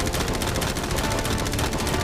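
Guns open fire on a boat, a dense continuous burst of rapid shots filling the whole stretch at steady loudness, with no voices over it.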